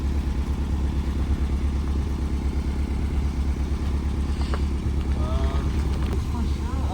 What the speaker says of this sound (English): By the way, the car is still just idling perfect.